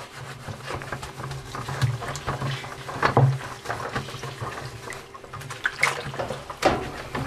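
Water sloshes and splashes into a plastic home brew fermenter during cleaning, a continuous wet trickle and patter with a few louder splashes, close up, with no talking.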